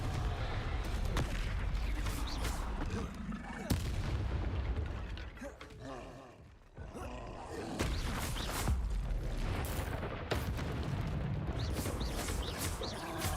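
Confringo fire-spell explosions from the Hogwarts Legacy video game: loud, repeated booming blasts with crackling tails that nearly fill the stretch, easing briefly in the middle before the bursts resume.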